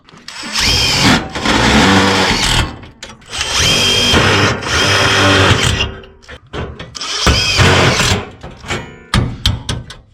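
A power drill drives screws through metal J-track and furring channels into timber during a skylight ceiling renovation, whirring in three long loud bursts with shorter stuttering pulses between and a rapid string of brief triggers at the end.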